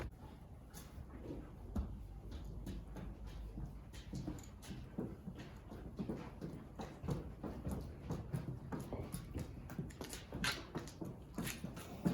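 Horses walk into a barn, hooves giving faint irregular clip-clops and knocks over a steady low background hum, with no talking.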